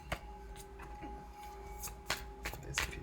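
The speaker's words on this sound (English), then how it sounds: "There's a few shuffles." Tarot cards being shuffled by hand, a soft papery riffle and flutter with several quick snaps and slides, faint and close, over a low steady hum.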